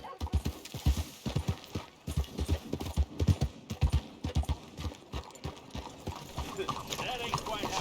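A horse gallops in the video game Red Dead Redemption 2, its hooves pounding in quick rhythmic clusters close by, with a brief whinny and scattered voices talking over the hoofbeats.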